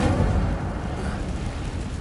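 An Incendio fire spell in Hogwarts Legacy, heard as a dense, roaring whoosh of flame that holds steady for about two seconds, without talking.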